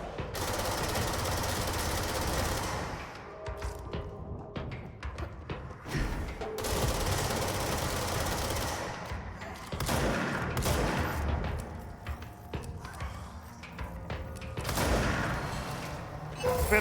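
Jesse Faden's gun in the game Control firing in rapid rattling bursts, broken by short pauses and mixed with mechanical clanks and creaks, fairly loud and close throughout.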